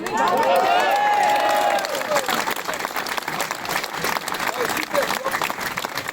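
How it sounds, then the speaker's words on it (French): An audience at a club gift-giving gathering breaks into applause for the road captains. Dense, loud clapping opens the clip, swells briefly, and then continues unevenly as a voice cheers over it. "je voulais vraiment applaudir aussi ces road captains"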